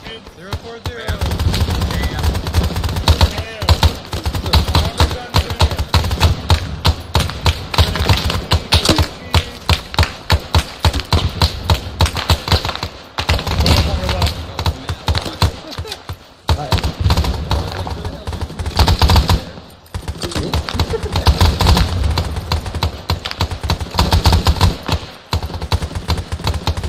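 Sustained automatic gunfire in the Arma 3 Vietnam game, loud and dense bursts rattling almost continuously for the whole stretch, with a few brief lulls and voices talking over the shooting.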